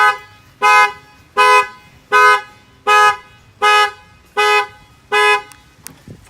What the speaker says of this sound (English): In case somebody opens up the tailgate, it will fire off the alarm.